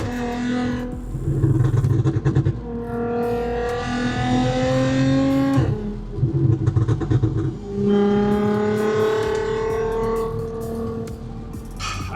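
An Audi S4 with a supercharger and custom 3-inch valved exhaust revs and accelerates up close, engine pitch climbing in repeated pulls with a brief gear-change dip between them, echoing slightly as if in a tunnel.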